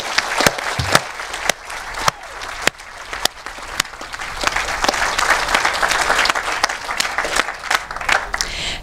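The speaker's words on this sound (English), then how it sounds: "show our appreciation and gratitude with Dr. Michaud with another round of applause" A graduation ceremony crowd gives a round of applause, starting with scattered distinct claps that swell into a full, steady ovation from many people.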